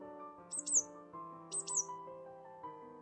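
A person whistles in imitation of bird song: two quick, high chirping trills, about a second apart, over soft, sustained background music.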